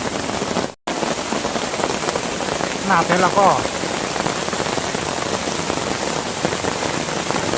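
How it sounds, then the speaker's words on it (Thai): Heavy rain pours down on a tent under a large tree by a waterfall, a dense, constant hiss, loud and close, with someone briefly speaking in the middle. "ตอนนี้ที่ฝนตกเทลงมา นี่"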